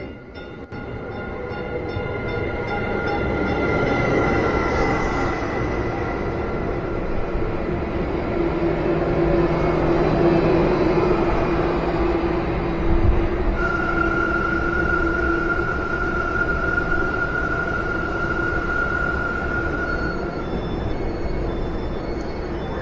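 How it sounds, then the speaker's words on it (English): Steady rumble of a TEXRail commuter train rolling along rails, heard from inside, with a faint high whine and occasional clunks, no talking. "we're catching a train to the yarn store. Come along on the Tex Rail with me."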